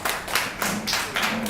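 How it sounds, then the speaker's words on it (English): Audience at a playback theatre performance during a coffee harvest festival clapping steadily together, a dense continuous patter of many hands held at an even level throughout. "now give yourselves a big round of applause"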